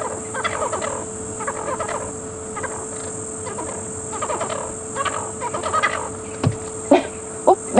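Francolins call repeatedly during a confrontation on a safari drive at Djuma Game Reserve, harsh rapid cackling bursts at a moderate distance over a steady insect drone, with a few louder sharp knocks near the end.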